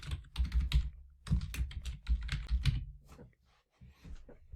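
Someone types on a computer keyboard, close and clear, in quick bursts of keystrokes with short pauses while writing a Python hello world print statement.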